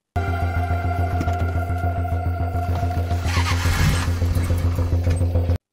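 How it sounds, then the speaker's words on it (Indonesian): A car's starter cranks over and over in a fast, even rhythm without the engine catching, a close, steady mechanical churning that goes on for several seconds and then cuts off abruptly. "Mobil Viviani tidak mau menyala."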